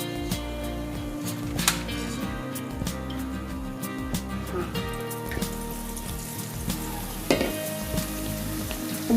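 Boondi for a sweet Diwali batch fries in hot oil, giving a continuous dense crackle and bubbling close by with scattered sharper pops and a low steady hum underneath.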